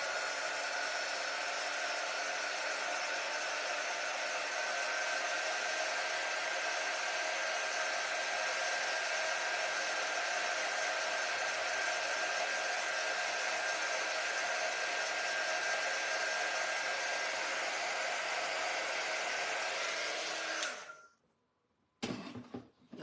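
A hair dryer blows steadily to dry paint on a fall fence decoration, a loud, even whoosh lasting about twenty seconds before it clicks off.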